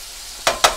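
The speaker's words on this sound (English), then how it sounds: "which this is almost like deep frying" Orange chicken deep frying in oil, a quiet steady hiss broken by two loud bursts of sizzling close by, with no talk.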